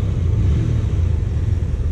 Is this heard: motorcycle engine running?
yes